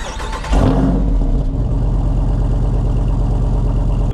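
A 2023 Jeep Wrangler Rubicon 392 with its 6.4-liter V8 Hemi starts up with a loud burst, then settles into a steady, deep, rumbling idle that stays close and strong to the end, with no one talking.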